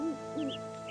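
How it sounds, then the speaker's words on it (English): An owl hoots a couple of times in the Nancy Drew: Ghost Dogs of Moon Lake game, low and fairly soft, with faint higher chirps over a steady ambient woodland drone. "Oh, why do I hear an owl?"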